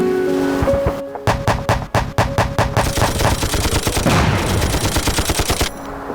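Machine gun firing at about 450 rounds per minute, a rapid string of loud, sharp shots in quick succession that blur into a sustained burst before stopping, with no talk over it.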